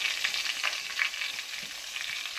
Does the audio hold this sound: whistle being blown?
no